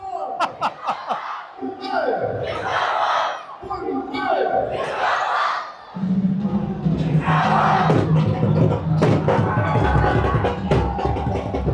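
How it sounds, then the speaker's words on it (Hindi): A large crowd at the India–Pakistan border shouts slogans in rhythmic, surging bursts, with loud rising calls and answering roars, a voice talking between them. "हमारे इन सिर्फ नारों की आवाज की धमक से दिल ही लरज रहा है"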